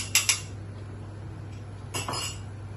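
A utensil clinks against a pot while egg is stirred into chicken mami soup, two quick metallic taps then a longer scraping clatter, close over a low steady hum, no talking.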